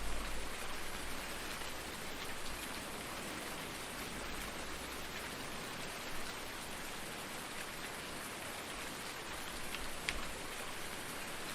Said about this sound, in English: Well, I can't do anything if it's raining.